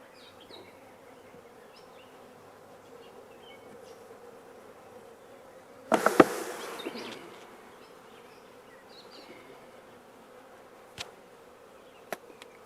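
Honeybees from a beekeeper's hive being split into frames with eggs and nurse bees, a low steady buzzing hum throughout, with a louder burst of close activity midway and a couple of sharp clicks later.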